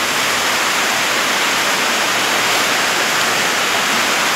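Heavy rain pours down steadily and loudly, a dense, even hiss with no pauses, heard close while cooking at a rural home.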